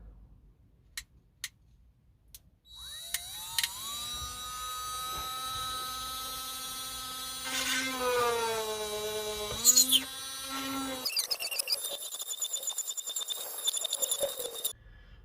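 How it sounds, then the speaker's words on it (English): A small rotary tool with a tiny drill bit whines at high speed, its pitch rising and dipping as it bites into plastic, with a few sharp clicks before it starts. "We've got our rotary tool with a tiny little drill bit in."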